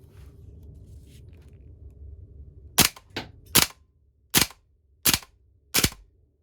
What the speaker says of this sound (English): So if I just go ahead and desk pop this in semi-auto